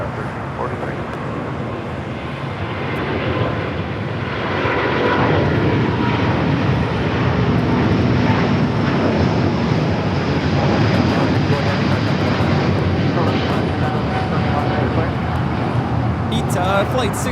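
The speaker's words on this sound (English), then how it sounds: "flight 621 taking off to Rome, Italy on the A350-900" An Airbus A350-900 in a special livery takes off from runway 25 right at Los Angeles airport, a broad, loud jet roar that builds over the first few seconds and holds steady. Radio chatter can be heard beneath it.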